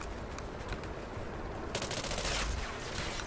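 Gunfire in the Call of Duty Ghosts video game, a fairly faint, rapid burst of automatic shots that grows denser and louder toward the end over a noisy background.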